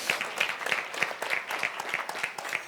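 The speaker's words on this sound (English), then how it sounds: "Let's give her a big round of applause" Light, rhythmic clapping from a small audience honoring a panel facilitator, individual claps standing out in a steady pattern at moderate volume.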